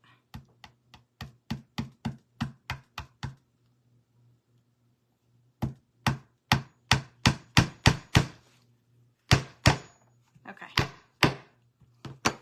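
Loud, sharp hammer blows tack fabric down at a crafting table, coming in quick rhythmic bursts of about a dozen strikes, then a pause, then another flurry, with a brief word spoken between.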